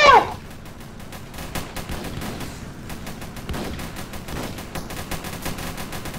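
Rapid machine gun fire in the Roblox game Armored Patrol, a dense rattling stream of shots at steady volume after a brief louder opening burst, continuing throughout.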